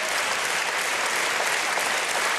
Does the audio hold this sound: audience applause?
yes